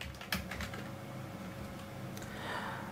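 Rapid, close clicking of a computer keyboard as tags are typed, a steady run of light keystrokes with no talk over them.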